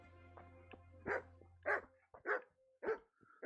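A dog in the medieval role-playing game Kingdom Come: Deliverance barks four times in a steady rhythm, loud and close, after a brief low hum and softer clatter.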